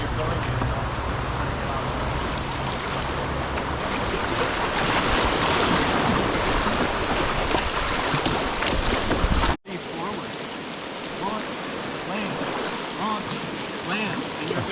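Whitewater rapids on the Nantahala River heard from a kayak, a loud continuous rushing roar of churning water that cuts off abruptly partway through and continues at a slightly lower, steadier level.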